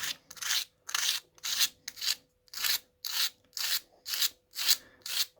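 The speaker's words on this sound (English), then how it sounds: "you can sand litho plate" Aluminium litho plate is sanded by hand with aluminium oxide sandpaper. About eleven rhythmic, raspy back-and-forth strokes sound close and fairly quiet, with short pauses between them and no voice.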